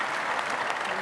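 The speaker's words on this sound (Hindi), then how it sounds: "इसके लिए जोरदार ताली बजा दो" A brief burst of applause from an audience at a yoga gathering, dense clapping heard only for a moment.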